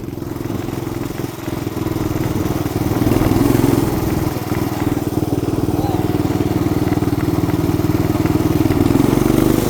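A mini bike engine runs at full throttle through town in a snowstorm, a loud, buzzing, steady drone with slight swells in pitch that continues without pause for the whole stretch.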